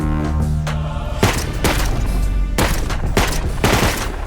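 Loud, dense gunfire in the video game Rust, several heavy bursts and sharp volleys overlapping in rapid succession, close and sustained with booming impacts.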